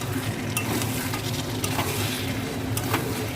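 Mutton curry sizzles steadily in a hot pan of oil and spice while being stir-fried, with a dense continuous crackle and occasional scrapes of a spatula against the pan.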